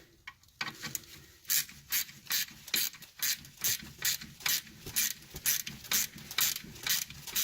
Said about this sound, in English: I just take out this 12mm bolt that holds the wire in place